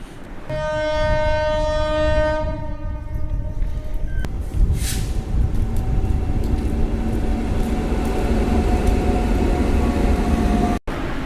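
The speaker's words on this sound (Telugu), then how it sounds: "చాలా ట్రైన్స్ వస్తున్నాయి పోతున్నాయి" A loud train rumbles through a station with a long horn blast at first, then continuous heavy rolling and rattling of carriages close by.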